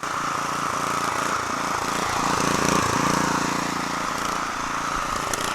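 A Honda GX390 small engine runs unevenly without choke, its loud mechanical drone surging and dipping in an irregular on-and-off rhythm, close by with no talk.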